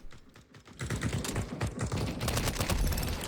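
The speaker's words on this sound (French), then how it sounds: "Ok, petite mitraillette." Submachine gun firing in a shooting video game, fast rattling bursts of automatic fire broken by short gaps, loud and close, with no talking.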